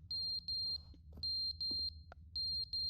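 A smoke or fire alarm in The Stanley Parable beeps in a steady pattern of high, piercing tones in clusters of three or four, with short gaps between groups, over a low ambient hum and a few faint background noises.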